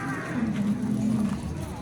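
A cow moos once in a drawn-out low call at a cattle market, close and moderately loud over background crowd murmur.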